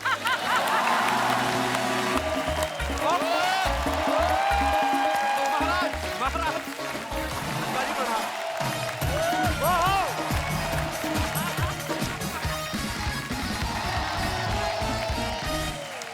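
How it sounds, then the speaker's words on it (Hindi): Studio audience on a Hindi comedy talk show applauds loudly and continuously, with whoops and cheers rising over the clapping and music, while a host speaks over the crowd. "जोरदार तालियां हो जाए अनुपम सर के लिए।"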